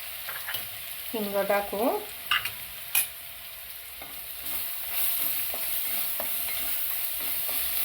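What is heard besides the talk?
green chilli paste sautéing and being stirred in a pan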